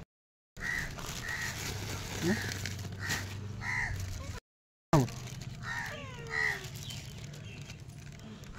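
Crows on a rooftop caw in short harsh calls, several spaced bursts over background noise, with a person speaking at times alongside.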